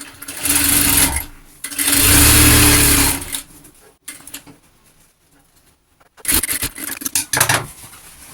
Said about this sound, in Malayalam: അതിന് ശേഷം നമുക്ക് അതിൻ്റെ അരികിലൂടെ ഒന്ന് സ്റ്റിച്ച് ചെയ്തെടുക്കാം.